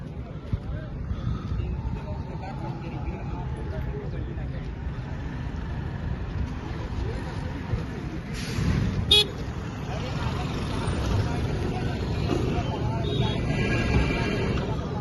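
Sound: traffic jam with car horns honking

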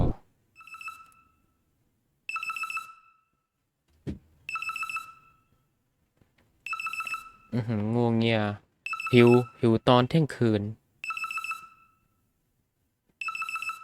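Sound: phone ringing in the video game The Midnight Food Run

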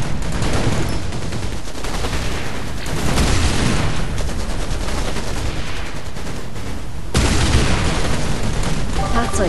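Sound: enemy gunfire on a vehicle in the video game Anno 2070

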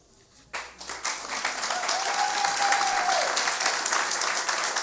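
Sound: audience applause

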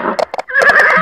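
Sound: horse neighing

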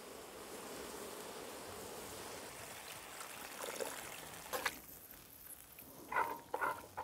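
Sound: water being poured into a cauldron for Bukhari green plov

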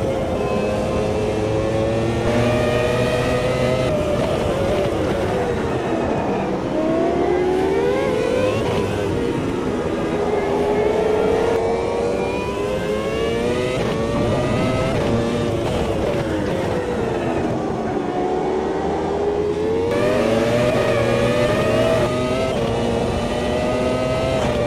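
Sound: F1 V10 car downshifting and accelerating, video game Automobilista 2

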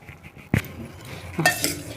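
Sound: stirring in a brass bowl with a ladle

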